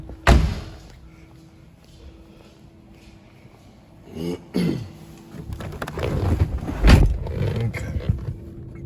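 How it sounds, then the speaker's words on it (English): A solid thud of a 1994 Chevrolet Corvette coupe's door shutting near the start, followed by more muffled thumps and rustling handling sounds. "Shut this door."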